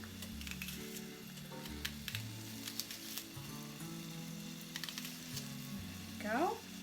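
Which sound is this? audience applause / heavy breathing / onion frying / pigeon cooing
onion frying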